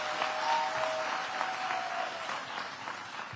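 Applause from a school community gathering with education leaders fills the room, a moderately loud wash of clapping that gradually tapers off, with a faint voice underneath.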